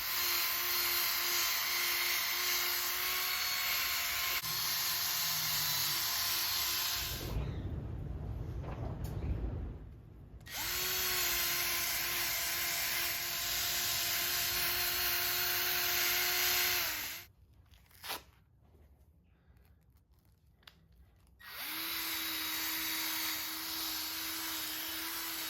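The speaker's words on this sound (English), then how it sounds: "Now applying some polishing compound. So that's my polisher, a little cordless handheld unit." Small cordless handheld polisher buffing polishing compound onto a Benotto SLX bicycle frame, a steady high motor whine that drops out twice briefly and resumes, loud and close with no talk.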